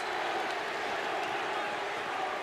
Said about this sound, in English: Crowd trying to urge on the Boston Celtics